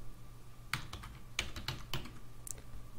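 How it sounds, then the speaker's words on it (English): A computer keyboard being typed on in a few separate clicks and short bursts of keystrokes, close and fairly quiet over a low steady hum. "if you press right arrow on your keyboard, it will automatically retype what you typed before"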